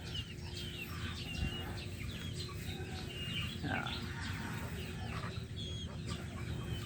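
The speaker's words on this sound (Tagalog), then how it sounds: "Mga sisiw." Chicks chirp steadily while pecking at malunggay leaves, with many thin, high peeps overlapping in a busy chatter against a constant low background noise.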